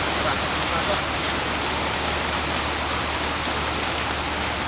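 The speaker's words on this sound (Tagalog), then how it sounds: "Ngayon, napakalakas ng ulan. Biglang lumakas." Heavy rain pours down steadily on a construction site in Saudi Arabia, a dense, loud, unbroken hiss of rainfall with no breaks across the whole stretch.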